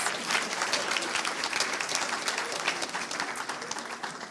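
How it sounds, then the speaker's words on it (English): Audience applause at a school board meeting, honoring student groups after a photo. A steady, dense wash of many hands clapping continues evenly throughout without any talk. "let's give them another round of applause"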